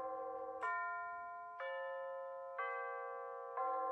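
A Bulova C3542 wall clock chimes four evenly spaced strikes, each ringing tone sustaining and slowly fading into the next, quiet and close with no voices.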